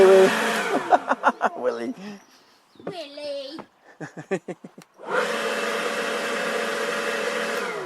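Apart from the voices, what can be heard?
WorX 40V yard blower running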